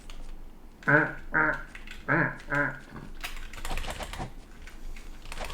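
Ancient wyverns in a video game give a run of four loud, honking, goose-like calls in quick succession, followed by a busier stretch of clattering, scratchy game noise.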